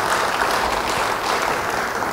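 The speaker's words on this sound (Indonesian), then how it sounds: "Yang mau beri tepuk tangan bagi dia." A church congregation breaks into steady, dense applause that fills the space, loud and continuous with no voices over it.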